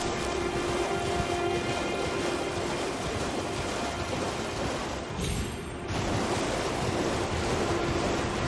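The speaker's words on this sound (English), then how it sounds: "Multiple levels here with all these waterfalls." Rushing waterfalls on the Cerulean Coast in Elden Ring: Shadow of the Erdtree, a steady broad roar of falling water with a windy, surf-like wash, loud and continuous throughout with a brief dip midway.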